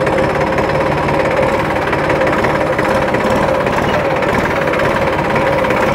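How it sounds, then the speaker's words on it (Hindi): A Massey Ferguson 254 DynaTrack tractor drives along with a steady, loud diesel engine rumble and rattle, close and continuous without a break. "फिर मैं इसको आगे करूँगा, ट्रैक्टर मेरा आगे जाने लग जाएगा"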